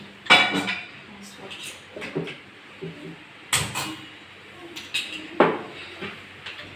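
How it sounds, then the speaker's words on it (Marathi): A frying pan goes onto a stove in a home kitchen, a series of sharp metallic clanks and knocks spaced a second or so apart, close and fairly loud, with quieter rattles between. "पहिल्यांदा फ्राय पॅन ठेवूया."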